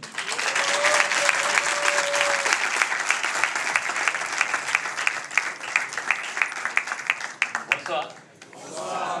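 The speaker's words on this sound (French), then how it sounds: "faites un maximum de bruit pour mon gars sûr, Monsieur Chris Mavie" Loud, sustained applause from a large audience fills the room, with scattered whistles on top, before tapering off near the end.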